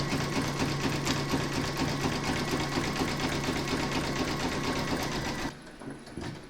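An embroidery sewing machine satin-stitches around the edges of a shark bookmark, a loud, steady rapid mechanical chatter that runs on evenly before stopping abruptly near the end, leaving a quieter hum.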